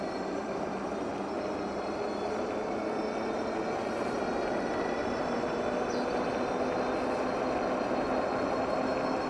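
A JANSNO X60 moped-style e-bike running on a single motor at pedal-assist level 3 gives a steady, even whir and rush of wind and road noise, continuous and unbroken throughout the ride.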